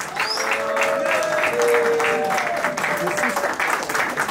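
Applause from wedding guests at a Congolese wedding as the groom's family is welcomed, steady clapping from a crowd with some cheering and a voice speaking over it.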